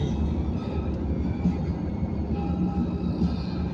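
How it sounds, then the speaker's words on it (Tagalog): Metro rail train rolling past on an elevated line, a steady low rumble and rattle of wheels on track at moderate distance, continuous for the whole stretch with no talking. "Metro train pala yan"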